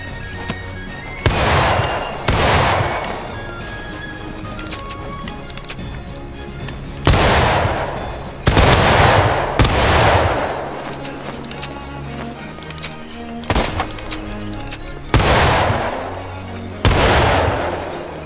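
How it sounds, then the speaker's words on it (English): Musket volleys in the Civil War game War of Rights, with loud, ragged bursts of massed gunfire cracking out in repeated waves and echoing rumble between volleys. "Keep firing, boys."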